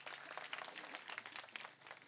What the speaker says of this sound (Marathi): त्यांच्याकरता एकदा जोरदार टाळी वाजवा